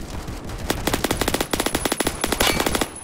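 M4 rifle fire in a Roblox shooter: loud, close rapid bursts of evenly spaced shots, with brief pauses between strings of rounds.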